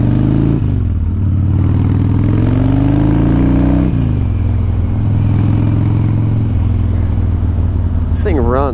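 A 2001 Harley-Davidson Dyna Wide Glide motorcycle engine runs loud and close with its choke out, holding a steady rumbling idle that shifts pitch as the revs rise and settle.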